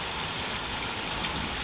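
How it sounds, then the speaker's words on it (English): Steady rain on a rainy day, a dense, even hiss of falling drops that fills the whole stretch at a constant loudness, with no voices. "Now, as you can see, it's a nasty rainy day."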